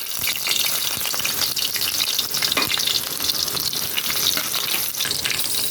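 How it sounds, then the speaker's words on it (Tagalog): Onions frying in hot oil in a pan, a loud steady sizzle that runs without a break, with stirring noises close by and no speech. "Lalagay ko na po yung sibuyas."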